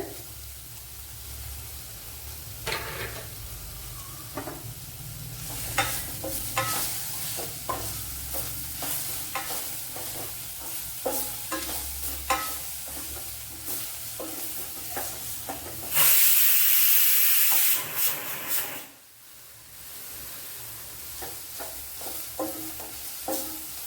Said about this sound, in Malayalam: ഇതിലേക്ക് ഇനി ഒരു പിടി തേങ്ങ ഇട്ട് കൊടുക്കുക. സവാളയും കൊച്ചുള്ളിയൊക്കെ ഏകദേശം വഴണ്ട് വന്നിട്ടുണ്ട്.